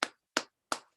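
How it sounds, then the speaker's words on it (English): Three sharp, evenly spaced group claps ring out in unison at a school assembly, each a crisp burst about a third of a second apart, with no talking over them. "we will continue with our 3-power clap"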